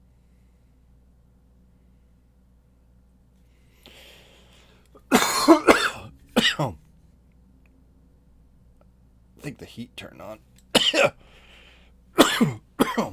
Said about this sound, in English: It's got me coughing real hard.